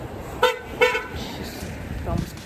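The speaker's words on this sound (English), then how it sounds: "there was almost an accident between a taxi driver and his car. It was right in front of me. That's why they're honking." Two short, sharp car horn toots sound close by in city traffic, with a passing vehicle and road noise underneath and a person talking.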